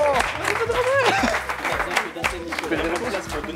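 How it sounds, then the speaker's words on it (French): A studio audience on a French TV quiz game show applauds loudly and cheers, a dense wash of clapping mixed with shouting voices and a host talking over it. "Nicolas, on peut applaudir très fort Nicolas."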